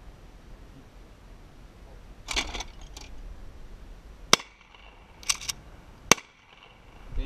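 Shotguns firing during outdoor skeet shooting, three sharp separate bangs spaced about a second apart, heard from close range against a quiet background with a little rustling between them.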